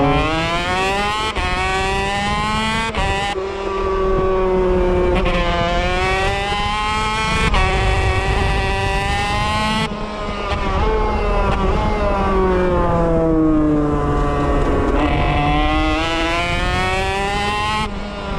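A two-stroke motorcycle engine revs hard during a wheelie and climbs in pitch through several gear changes, loud and close, the whine rising and dropping between shifts.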